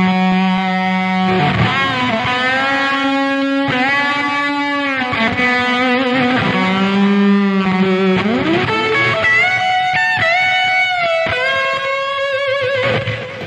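A heavily distorted electric guitar plays sustained chords and bends, with a washy, reverberant tail filling the space between notes.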